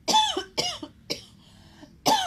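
Four separate coughs from one person, fairly close and loud, spaced over about two seconds with short quiet gaps between them, heard during a Spanish-language sermon with no speech over them.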